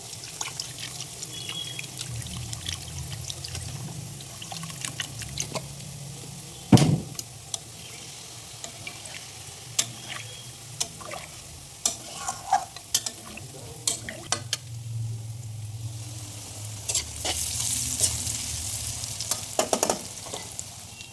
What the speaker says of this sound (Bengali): আর এখানে আমি এই যে সবজিগুলো ভেজে নিচ্ছি একে একে